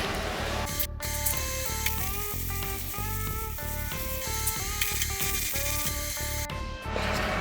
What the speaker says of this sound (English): let me finish welding this first